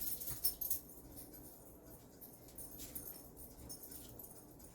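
A small dog gives a few soft whimpers and snuffles, loudest at the start and then fading into quiet movement noise, close by, with no talking.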